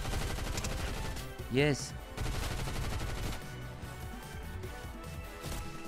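Bursts of gunfire in Fortnite, dense rapid cracks with a swelling whooshing effect midway, set against game music and a brief spoken word.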